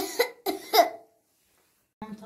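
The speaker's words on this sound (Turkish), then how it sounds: "Ben öksürüyorum. İşte böyle." A young girl coughs in three quick, harsh bursts, close to the listener, with a pause and a brief voice afterward; she is ill with swollen tonsils after eating ice cream.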